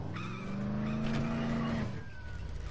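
A car drives in the Dead Island video game with a steady loud engine drone that cuts off sharply near the end, followed by a fainter whine.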